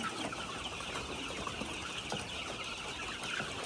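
Ready-to-lay hens clucking on a farm, faint and distant beneath a steady wash of background noise with scattered soft calls.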